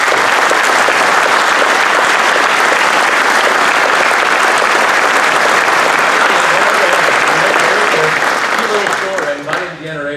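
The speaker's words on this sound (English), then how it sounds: "the Gibson family deserves a heartfelt round of applause" Audience at a firearms celebration dinner breaking into sustained, loud applause from many hands, steady and dense for about ten seconds before thinning as a voice begins speaking near the end.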